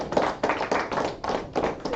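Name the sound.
congregation clapping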